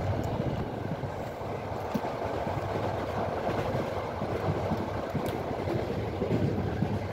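A moving passenger train in Bangladesh rumbles steadily from inside the carriage, with a constant low roar, faint rail clatter and wind noise and no talking.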